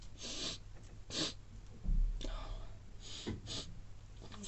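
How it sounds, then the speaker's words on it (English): A person sniffles several times, each a short, close, quiet intake of breath through the nose, with soft pauses between during a calm tarot reading at home. "I'm really sniffling"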